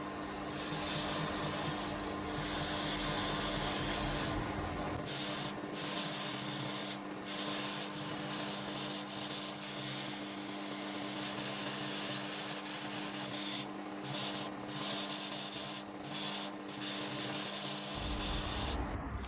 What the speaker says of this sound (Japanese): 顎も指をかけた時に痛くないように細く切ったベルトで角を取りながら形を崩さず磨いていきます